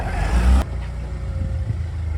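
An off-road truck's engine roars loudly up close for a moment, then drops to a lower rumbling idle as it backs up on a rough trail.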